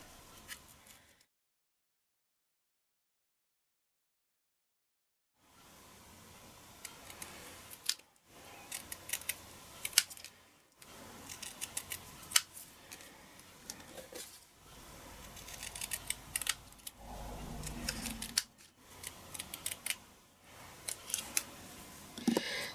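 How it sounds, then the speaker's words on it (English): Scissors fussy cutting around a stamped letter for a vintage Christmas card, with irregular crisp snips and paper rustle heard close up after a silent stretch, in short bursts separated by brief pauses. "I'm going to fussy cut round this letter."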